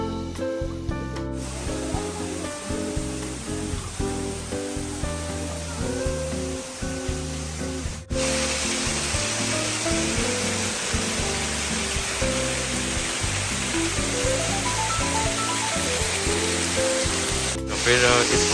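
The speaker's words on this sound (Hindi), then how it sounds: "ये वाटरफॉल के अंदर जाते हैं चलो" An indoor artificial waterfall in the Montreal Biodome's recreated forest pours as a constant broadband rush that grows louder and fuller partway through, with faint background activity beneath it.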